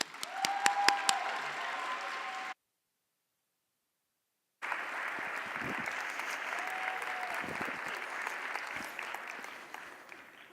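An audience claps steadily to welcome a speaker onto a stage, dense sustained applause with a few whistles, broken by a short silent gap before the clapping resumes and continues to the end.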